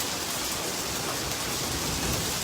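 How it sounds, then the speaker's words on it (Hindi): Heavy sleet and rain pour down in Islamabad, a dense, steady hiss of falling ice and water that holds at an even level throughout, with no voices. "शदीद ज़ालाबारी जो है वो इस्लामाबाद में हो रही है"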